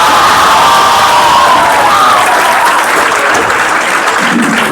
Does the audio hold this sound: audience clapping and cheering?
yes